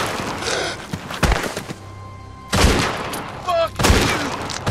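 Heavy shotgun blasts boom out in a zombie-survival video game, a couple of loud, sharp shots with thuds and scuffling between them and brief quieter gaps.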